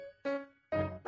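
A cartoon puppy gives two short, high-pitched yips, close and clear, with silence between them, as the sound for a playful hearing test.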